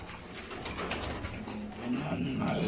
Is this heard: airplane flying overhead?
no